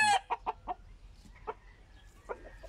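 A gamecock, half wild stock, that fought for over an hour clucks with its hens in a breeding yard; a few short, quiet clucking calls come in spaced bursts over low background hush.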